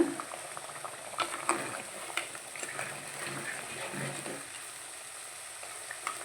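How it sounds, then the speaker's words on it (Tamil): A pot of crab curry bubbles and simmers vigorously, with soft popping and a steady sizzling hiss, with occasional light clinks nearby. "பாருங்க நல்லா கொதிக்குது"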